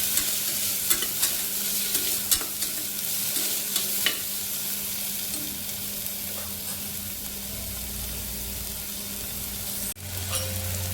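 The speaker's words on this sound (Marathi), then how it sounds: "त्यानंतर बटाटा हे पण थोडंसं परतून घेऊया" Potato and carrot sautéing in a pan for spinach dal khichdi for a baby, with a steady sizzle, frequent spoon stirs and scrapes, and a short knock near the end.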